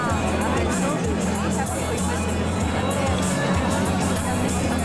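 A dense crowd of people mills through the Christmas market in Cologne, with steady close babble of many overlapping voices and footsteps.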